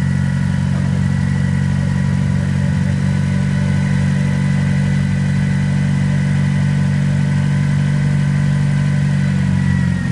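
A Toyota 40-3FG25 pneumatic-tire forklift with a 5,000 lb capacity, recently repaired and serviced, runs at a steady, loud idle with an even engine drone throughout and no talking.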